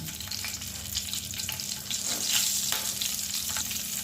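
Whole cardamom, cinnamon, cloves and two green chillies fry in hot oil for an egg curry, giving a steady, close sizzling hiss that swells slightly midway and holds on with no talking.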